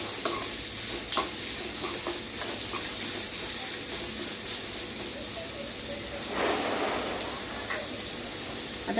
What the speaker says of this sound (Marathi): आता हे छान आपण गरम करून घेऊया कांदा।